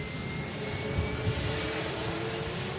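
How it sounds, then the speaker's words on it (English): A Ryanair jet airliner arriving from Faro touches down, its engines giving a steady broad roar at a moderate distance with no one talking. "Let's have the Ryanair touching down from Faro."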